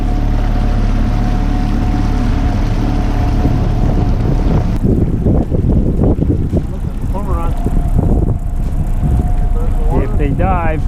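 An old Honda outboard engine drives a small fishing boat at Blue Marsh on a windy day, humming steadily up close beneath heavy wind buffeting on the microphone, with a voice talking partway through.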